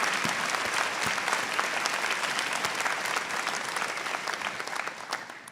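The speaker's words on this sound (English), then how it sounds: "I hope you'll just join me in giving them a round of applause." An audience at an alumni ceremony for the classes of 2020 and 2021 claps for faculty and staff, dense sustained applause from a sizable crowd filling the room, slowly easing off toward the end.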